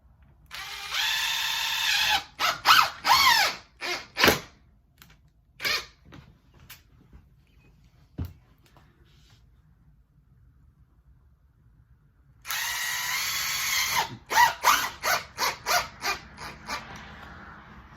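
Power drill drives screws into a replacement window frame in two loud bursts of whirring with short stop-start pulses and a quiet gap between them, close by.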